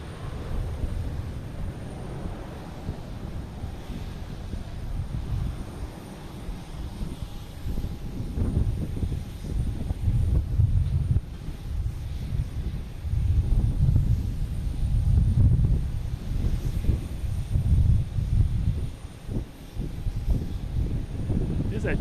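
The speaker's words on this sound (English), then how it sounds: "That JetBlue just came in" A JetBlue airliner lands at Boston Logan Airport, a deep rumbling roar that builds and swells toward the middle and then eases, mixed with wind buffeting on the microphone.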